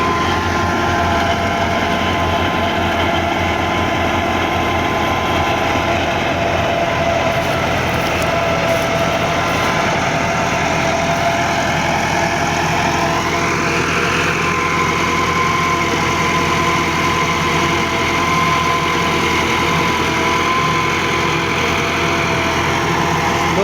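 A 2010 Massey Ferguson 375 tractor's diesel engine with a WSK diesel pump runs steadily at an even, moderate load pulling a disc implement, with a constant low rumble and hum throughout and no voices.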